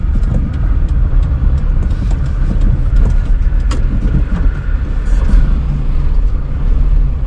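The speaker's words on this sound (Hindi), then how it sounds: "देखो ये भी तो पहाड़ है जहाँ पे अभी चढ़ रही है गाड़ी।" A car climbing a hill section of a driving test track, engine rumbling steadily and close with continuous low road noise throughout.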